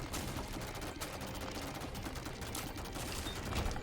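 Rapid shots firing in The Binding of Isaac: Repentance, a steady, fast barrage of dense, crackling bursts that continues without pause at an even level.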